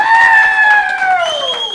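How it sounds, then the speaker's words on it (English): An audience at a mead awards ceremony breaks into cheering and whooping, with voices rising over a short burst of crowd noise. "Clap for these people."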